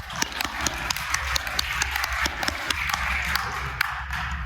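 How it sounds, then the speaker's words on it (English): At a business presentation in a hotel event room, the audience gives a round of applause: a steady run of claps at moderate distance, with no speech over it. "Let's give them another round of applause."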